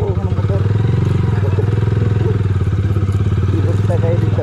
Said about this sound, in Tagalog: nandito na ako ng motor